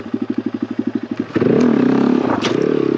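A Honda Grom motorcycle engine chugs in a steady loping idle rhythm, then revs hard and holds a loud, sustained drone during a wheelie attempt, close to the listener with no talking.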